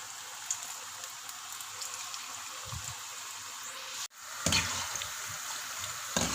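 Pakoras frying in hot oil over medium heat give a steady, faint sizzle, with a brief drop near the middle before the crackle returns a little louder.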